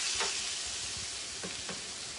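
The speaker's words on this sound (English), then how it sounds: "Let the salmon continue to cook in your sauce." Salmon chunks simmering in a sauce for a Tuscan seafood dinner, giving a dense, continuous sizzle and hiss with a few brief stirring scrapes, close up and steady throughout.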